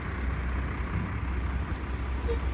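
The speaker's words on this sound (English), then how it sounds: "And the dumpster truck's in the background" A garbage truck rumbles steadily in the background, its deep low engine drone continuous and moderately loud, with no clear speech over it.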